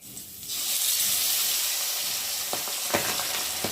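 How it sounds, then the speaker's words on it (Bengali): Pabda fish dropped into hot oil, setting off an immediate loud, steady sizzling hiss that holds throughout, with a few sharp spits and pops near the end, close up. "তেলটা গরম হয়ে গেছে আর এখন একে একে মাছ দিয়ে ভেজে নেবো"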